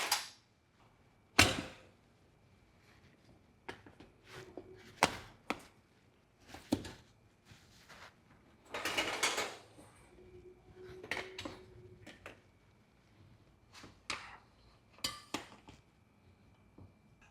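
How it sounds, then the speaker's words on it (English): Tire spoons prying a tire bead onto a motorcycle wheel, likely a Stark Varg on SMPro Platinum wheels, making a series of sharp, irregular metallic clanks and scrapes with short pauses between, fairly close and without talk. "as I make my way around the tire, I will have to take smaller and smaller bites with the spoons"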